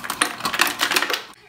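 Ice cubes tumble into a blender jar for a kid-friendly protein shake, a quick run of hard clattering knocks and clinks, close and loud, before falling silent.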